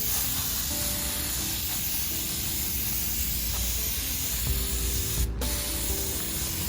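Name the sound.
Duplicolor prep spray being sprayed on exhaust header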